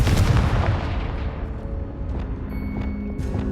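A Confringo blasting spell explodes in the video game Hogwarts Legacy, a heavy booming blast that rolls and decays over a few seconds, followed by faint lingering rumble and thin magical tones, with no speech.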